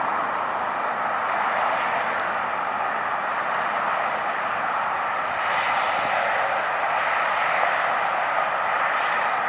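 A heavy jet at LAX Airport roars steadily as it lands or takes off, a broad loud engine rumble that holds evenly for the whole stretch with no voices over it.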